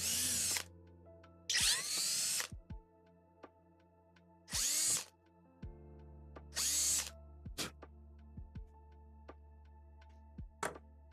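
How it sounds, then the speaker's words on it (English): A power drill whirs in several bursts while drilling holes during a 3D printer build, spinning up and winding down between runs, with quieter clicks and short pauses in between. "Drill these out as well."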